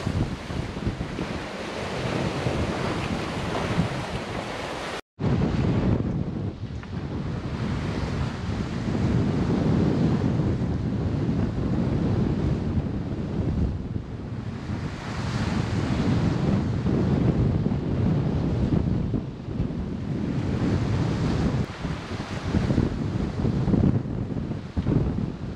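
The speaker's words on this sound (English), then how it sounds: "The waves get bigger, the wind gets stronger." At sea aboard a boat, ocean waves surge and crash under strong wind that roars across the microphone, a loud, continuous rush with one brief dropout near the start.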